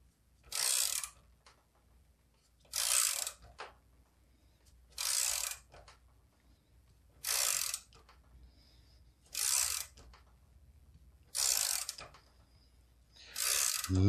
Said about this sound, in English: I've thrown the sight pusher into the vise, a little bit bigger wrench, and I'm going to muscle it on.